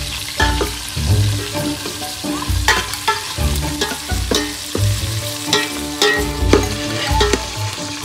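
Meat frying in a pan with onions, sizzling steadily while being stirred, with scraping strokes of a spoon against the pan recurring every second or so, close and loud, in a home kitchen.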